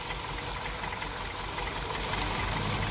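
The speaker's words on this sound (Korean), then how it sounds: "엔진이 약간씩 부조합니다." A car engine idles roughly with one fuel injector disconnected, giving a steady, slightly uneven mechanical hum with faint knocking, heard close and alone.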